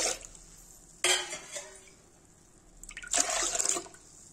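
Water pours over toor dal (arhar dal) in a kitchen pot in two separate splashing bursts with a quiet pause between them. The pouring is close and clear, with no talking.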